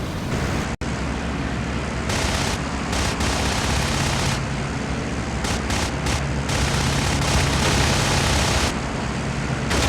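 A Mig-3 Ser.24 in IL-2 Sturmovik fires its aircraft machine guns in bursts over a constant loud engine roar, the gunfire switching on and off repeatedly across ten seconds with no talk.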